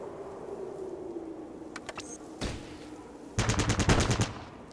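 Video game gunfire: a few sharp isolated shots, then a loud rapid burst of automatic fire near the end, heard over a low steady background hum.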